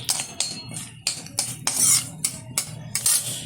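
A spoon scrapes and clinks against a pan while bay leaf, dried chillies and nigella seeds are stirred, giving irregular sharp metallic strokes close by with no talk.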